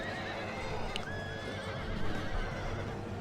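Horses in a cavalry battle in Medieval II: Total War with the Stainless Steel mod: a sharp neigh rises over clattering hooves and battle noise, and the galloping continues throughout.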